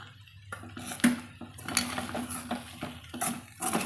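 A spoon mixing grated coconut into a cassava snack in a bowl, with several close, sharp metallic clinks and scrapes at irregular intervals.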